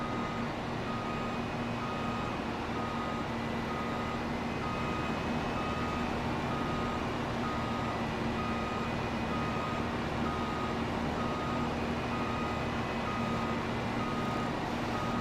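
A truck in Farming Simulator 25 reverses with a steady, evenly spaced beeping alarm repeating throughout, over a constant engine drone and low rumble.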